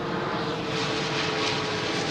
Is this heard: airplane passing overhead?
yes